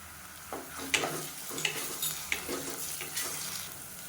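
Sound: ginger garlic paste frying with onions

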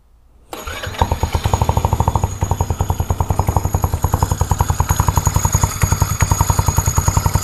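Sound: cold start of scooter engine with Reveno dry clutch

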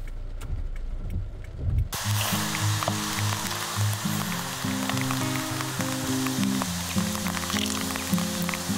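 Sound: rain falling

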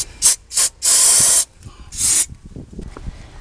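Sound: brake cleaner spray on new brake rotors

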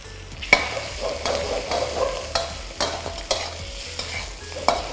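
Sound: stir-frying rice in a wok

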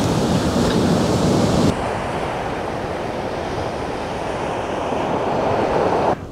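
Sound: rugged sea waves on the South Welsh coast

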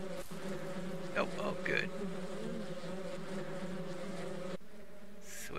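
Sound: bees buzzing in Ranch Simulator video game

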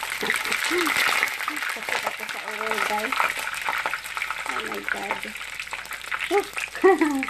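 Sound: frozen lumpia frying in hot oil

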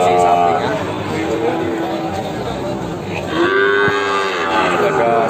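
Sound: Peranakan Ongole calves mooing at a cattle market

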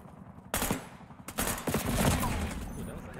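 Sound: gunfire from the video game Call of Duty Black Ops 6

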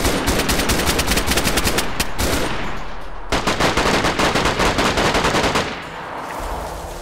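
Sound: gunfire in the video game DayZ

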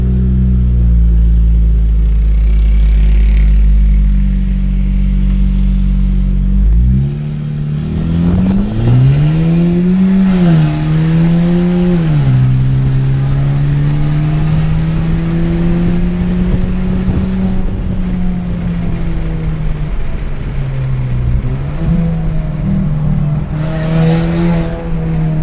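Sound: Chevrolet Tracker Premier 1.4 Turbo car accelerating

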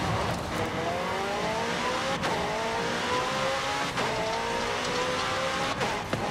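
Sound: McLaren car driving at high speed in video game Forza Horizon 5

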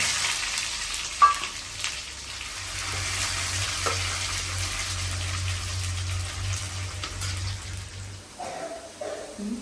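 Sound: mustard seeds and shallots frying in oil

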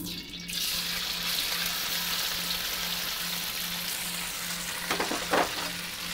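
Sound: tofu frying in a pan for Pad Thai

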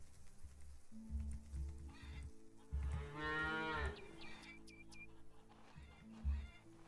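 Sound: cows mooing in video game Farmer's Dynasty

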